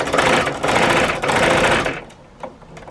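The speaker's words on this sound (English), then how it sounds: "I'm just going to literally sew on that particular line" A sewing machine stitches straight through layered quilt fabric in a steady, loud whir for about two seconds, briefly pausing once, then stops, leaving quiet room noise and a faint tap.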